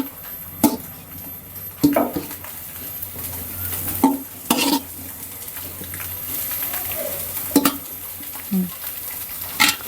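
An egg fries with very little oil, a faint, steady sizzle under sharp, intermittent clinks and scrapes of a utensil stirring in the pan.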